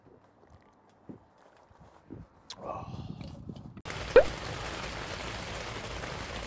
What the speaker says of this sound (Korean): 갑자기 비 온다고?